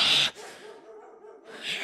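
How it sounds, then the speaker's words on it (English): A dog gives a couple of short sounds, a sharp burst followed by a softer, drawn-out whimpering tone, close and moderately loud. "Tell that dog to shut up!"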